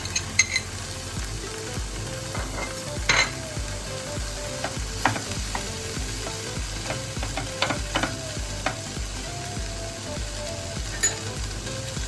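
Boiled potatoes cook in a pan over a high flame, a steady close sizzle and fry with repeated clinks and scrapes of stirring throughout.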